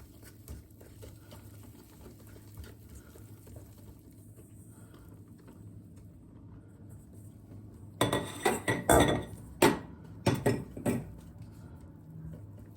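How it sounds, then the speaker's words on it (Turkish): Flour is gradually whisked into cake batter for a peach summer cake. Quiet kitchen hum gives way to a short run of loud clinking, tapping whisk strokes against the bowl. "bütün unumuzu yavaş yavaş çırparak kabımıza ekliyoruz"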